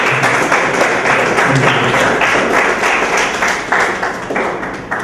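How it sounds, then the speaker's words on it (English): Sustained applause from a seminar audience for the speakers at a Rockwell session, dense and steady for the full five seconds at close range with no pauses. "So you should all give a round of applause to them."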